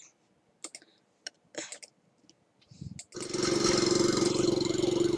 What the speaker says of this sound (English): Just seeing a guy riding a lawnmower on the street?